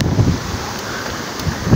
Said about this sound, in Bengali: গাছের পাতাগুলো দেখলেই বুঝতে পারবেন কি বাতাস আসছে